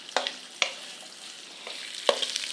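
Leftover rice frying in sesame oil in a pan, with faint steady sizzling under a few sharp clinks and stirring scrapes, no talk.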